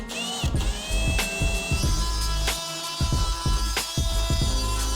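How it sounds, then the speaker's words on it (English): Power drill boring a large hole for an M16 cable gland during a 4WD 12V wiring install, heard as repeated bursts of motor whine with bit chatter and a steady electrical hum, loud and close. "So I'm going to drill a big hole, and then we're going to start burying it out."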